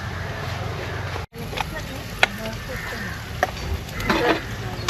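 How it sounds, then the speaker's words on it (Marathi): Onion fries in a pan during outdoor caravan cooking, giving off a steady close sizzle with occasional stirring scrapes, while people talk over it. "कांदा तो थोडा ब्राऊन व्हायचा बाकी आहे."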